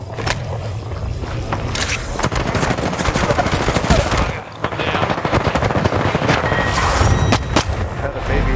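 Apex Legends gunfire rattles in rapid automatic bursts and sharp single shots, loud and close, dipping briefly near the middle before resuming for several seconds.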